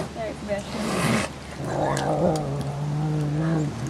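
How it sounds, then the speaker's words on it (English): Servals, small African wild cats, hiss and growl at close range while being fed, harsh breathy bursts with a low rumble, as a narrator speaks over them. "feeding the hissy little servals"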